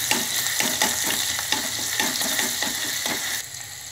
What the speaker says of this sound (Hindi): आप अब गरम तेल में 1 टीस्पून अदरक लहसुन का पेस्ट डालिए